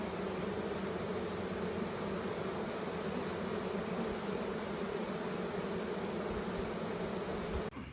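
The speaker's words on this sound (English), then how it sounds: "I had no idea that this swarm was going to be this giant." A massive honey bee swarm drones in a dense, steady buzz that stays loud and close without a break, with no voices over it.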